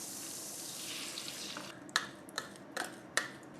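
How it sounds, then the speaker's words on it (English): Braising liquid pours into a hot pan of browned pork belly for adobo, a gentle hiss and sizzle that fades into quiet, followed by a few sharp clinks of utensils against the pan. "we'll add in our braising liquid"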